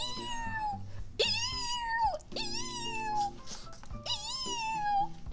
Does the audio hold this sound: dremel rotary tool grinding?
no